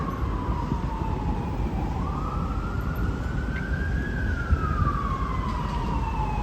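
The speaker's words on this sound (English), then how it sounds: "The sound of New York City, this ambulance sound." An ambulance siren wails through a New York City street, a long rising and falling tone sweeping slowly over a steady roar of traffic and city noise, moderately distant.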